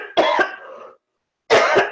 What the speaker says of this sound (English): because I am coughing way too much